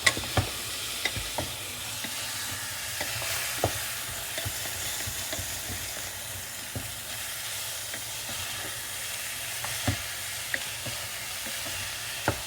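Brown gravy made from scratch in the soul food style cooks in a pan with a steady, low bubbling sizzle and occasional stirring clicks, heard close and without talk.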